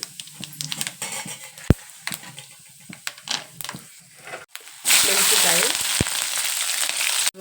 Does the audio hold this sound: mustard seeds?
yes